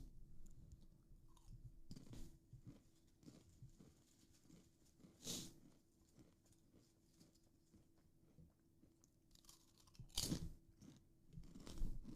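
Crisps being eaten close to a microphone: steady crunching and chewing with sharp louder bites around the middle and near the end, over a faint background soundtrack.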